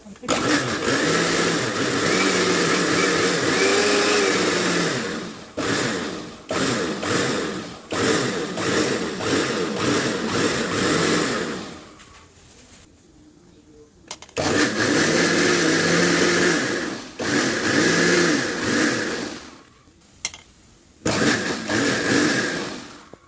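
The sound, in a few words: mixer churning cream with water to make butter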